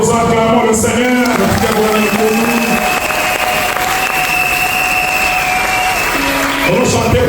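A church congregation applauds and cheers the Lord at a pastor's consecration, steady loud clapping and acclamation filling the room throughout, with voices singing or calling out over it at the start and end.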